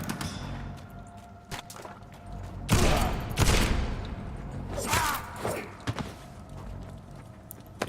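Shotgun blasts in the video game Vampyr, a few loud booming shots spaced a couple of seconds apart over a dark, rumbling game background.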